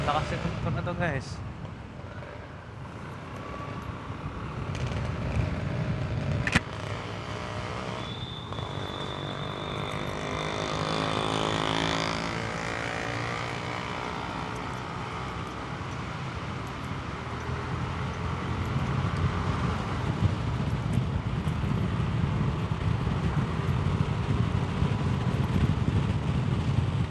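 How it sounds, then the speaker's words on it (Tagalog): Motorcycle engine droning steadily during a ride along an elevated skyway, blended with heavy wind rush against the microphone over about half a minute; a rider talks intermittently over the continuous noise. "Lakas itong motor na to guys"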